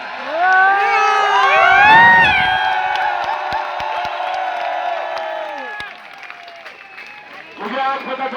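A large protest crowd at Jantar Mantar cheers and shouts loudly, with excited voices and whoops swelling early and then holding at a steady roar. A nearby voice speaks over the crowd.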